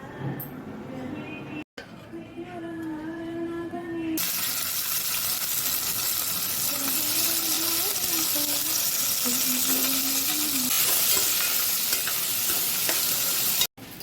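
Steady broadband sizzle of food frying in hot oil, loud and continuous, with faint stirring clinks and a brief tonal hum early on.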